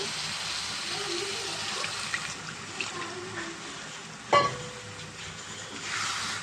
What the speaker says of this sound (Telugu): దీంట్లో ఇప్పుడు కొంచెం మనం వాటర్ వేసేసుకుందామండి